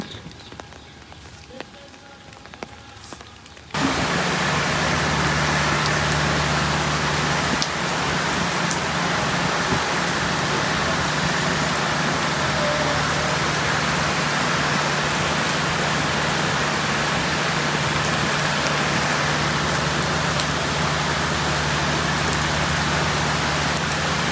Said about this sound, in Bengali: ঝিরিঝিরি বৃষ্টি ঝিরিঝিরি কন্টিনিউয়াসলি পড়তেছে